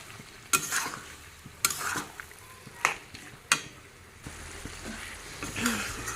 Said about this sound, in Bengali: এখন দিয়ে দিই লাউ নেড়ে নিই